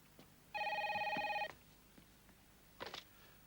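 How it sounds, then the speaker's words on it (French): An old telephone rings once with a single sustained electric bell trill, clear and moderately loud in a quiet room, followed by a brief faint rattle. "ça, c'est un téléphone."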